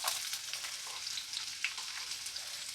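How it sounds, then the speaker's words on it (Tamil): Onions fry in hot oil with mustard seeds and urad dal for a banana stem poriyal, a soft, continuous sizzle with faint crackling pops, fairly quiet. "நெக்ஸ்ட்டு வெங்காயம் சேர்த்துக்கலாம்."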